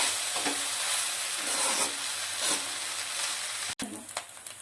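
Chicken fried rice stirred in a hot pan, a continuous close sizzle with rhythmic scraping and tossing strokes, cut by a sudden brief break before resuming with a few clinks, no voices.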